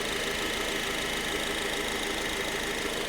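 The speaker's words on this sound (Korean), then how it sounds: "일정한 박자의 휘발유 엔진 소리 들으실 수가 있었고요" A Honda Accord gasoline engine idles with a steady, even rhythm, close and continuous, with no other sounds.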